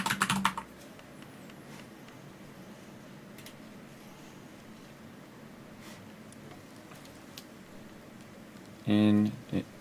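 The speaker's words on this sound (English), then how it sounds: "I'm typing out a lot of stuff today." Computer keyboard typing, a quiet continuous patter of keystrokes under a low background hum, with a brief burst of speech near the end.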